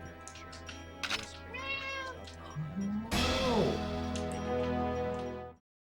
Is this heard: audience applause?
no